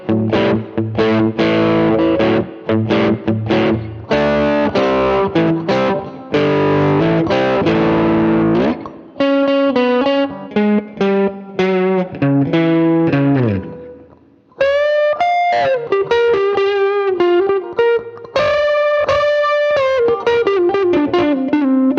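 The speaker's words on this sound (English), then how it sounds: "Light crunch tones, bridge and middle." An electric guitar with bridge and middle pickups together plays in a light crunch tone, a run of loud chords and riffs followed by ringing single notes and sustained bends, continuous and up close.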